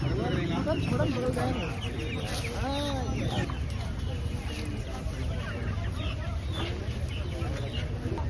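Native-breed hens and roosters clucking and squawking close by at a poultry distribution event, a busy overlapping chorus with people talking underneath throughout.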